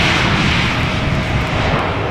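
A passenger airplane roars loudly and steadily as it comes in to land at Amsterdam Schiphol Airport, its broad engine noise filling the whole clip without pause.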